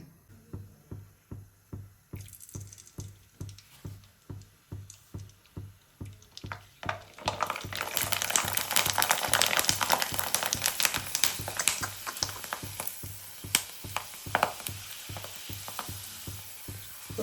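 Dried kurdai wheat crisps fried in hot oil. A steady rhythmic clicking runs throughout, then the oil bursts into a loud, dense sizzle that continues with crackling pops. No talk.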